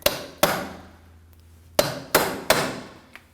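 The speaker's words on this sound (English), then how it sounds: "We're going to want to free that up using a punch and a hammer." Hammer striking a punch to free a stuck axle from the hub of a 2003-2006 Subaru Baja, five sharp metallic blows at uneven intervals with ringing decay, close and alone.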